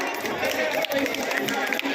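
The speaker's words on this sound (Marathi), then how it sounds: "जोरदार टाळ्या." An audience at a Shashwat Park art gathering applauding, brisk continuous clapping mixed with crowd voices and chatter.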